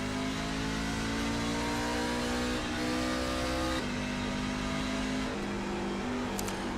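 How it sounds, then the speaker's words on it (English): A race truck in the iRacing game at a superspeedway accelerates off pit road, its engine droning loud and steady, climbing in pitch and dropping briefly at each gear change. "Here we go, off pit road, through the gears."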